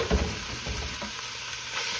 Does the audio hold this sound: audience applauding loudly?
no